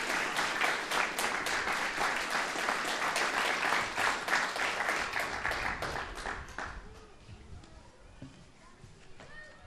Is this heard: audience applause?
yes